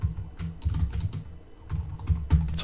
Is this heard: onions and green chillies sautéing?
no